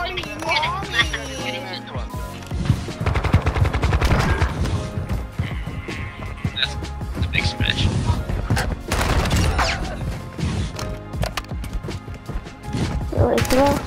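A fast-firing gun in Modern Warfare 2 lets off dense bursts of rapid gunfire, loud cracking volleys clustered together with impacts and thuds between, while people talk excitedly over the shooting.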